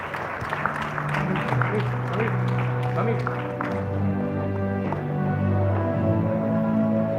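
Audience applause at the South Asian Travel Awards Gala 2025 in Nepal, steady sustained clapping from a crowd, with a voice and music-like tones running underneath.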